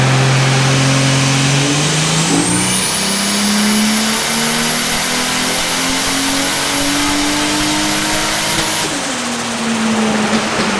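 A car with a stock 30-valve engine revs on a dyno. It makes a loud, continuous run whose pitch climbs steadily for several seconds, holds at the top, then drops back, with no talking.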